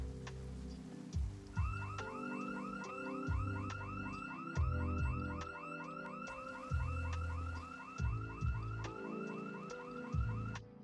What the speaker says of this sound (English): until I tripped an alarm